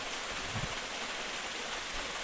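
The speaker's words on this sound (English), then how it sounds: "I can see the whole waterfall from here." A waterfall seen from a South Australian lookout pours as a steady, broad hiss of falling water, moderately distant and continuous, with no voices over it.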